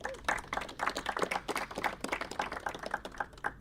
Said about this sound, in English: Let's give a round of applause for her being here with us.